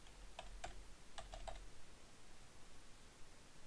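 Several quick keystrokes on a computer keyboard as an NTN number is entered, a short burst of clicks in the first second and a half and then quiet room tone, close and fairly faint.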